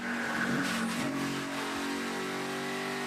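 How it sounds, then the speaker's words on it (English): Race car tires squealing during the 2016 Alsco 300 NASCAR race, a sustained high screech over loud, steady engine roar from cars running near the wall. "Listen to the tires squealing."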